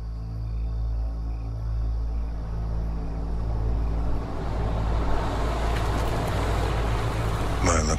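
A vehicle rolls up to collect someone, its low engine rumble steady and close before the noise swells toward the end, with no talking over it.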